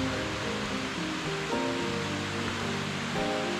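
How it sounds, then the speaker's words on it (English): Waterfall along the Annette Lake trail in Washington, a steady broad rush of falling water heard close, with low tonal hum mixed in and no talk. "Have a waterfall. Oh yes we do."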